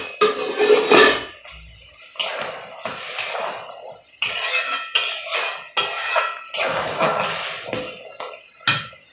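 Green peas being stirred in a cooking pot, a series of close, irregular clinks and scrapes of a utensil against the metal, spaced by brief pauses.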